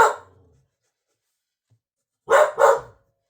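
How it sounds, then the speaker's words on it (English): A guard dog at home gives a short bark that trails off, then after a pause lets out two loud, sharp barks in quick succession, close to the microphone with no talking. "I know you've been a good guard dog, but it's just Rocket."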